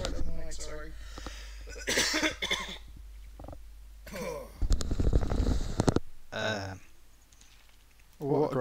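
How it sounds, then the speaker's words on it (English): A man coughs close into a microphone while livestreaming from his bed, a few harsh bursts mixed with throat noises and breathy sounds, with some muffled rustling between them. "Cough in the mic, frighten people off."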